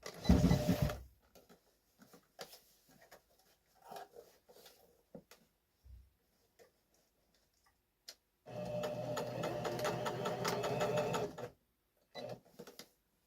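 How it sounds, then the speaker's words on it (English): A sewing machine stitches fabric for a one-piece chair cushion in a short burst, then runs in a steady, fairly close mechanical whir for about three seconds, with quiet handling clicks and pauses around it. "I am just gonna use the sewing machine to stitch it off."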